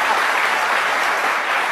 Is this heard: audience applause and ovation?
yes